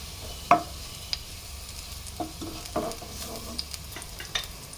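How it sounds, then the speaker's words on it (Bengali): Cumin seeds frying in a little oil in a pan, a soft steady sizzle with scattered faint pops and crackles, quiet and close, with no talking. "আমি জিরে দিয়ে দিলাম, খুব সামান্য, বেশি দিতে যাবেন না। জিরেটা ভালোভাবে ভেজে নেব।"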